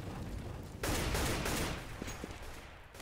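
Counter-Strike gunfire on the Cobblestone map in a FACEIT league match: a fairly quiet, dense burst of rapid shots over a steady background hiss, easing off toward the end.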